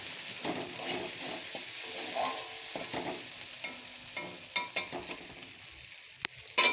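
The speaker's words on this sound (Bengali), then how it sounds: "দিয়ে দিলাম কাশ্মীরি লঙ্কার গুঁড়ো, দিয়ে এটা সুন্দর করে একটু কষিয়ে নেব" Kashmiri chili powder frying and being stirred in a pan: a steady soft sizzle under intermittent scraping and stirring, with a few sharper utensil knocks toward the end.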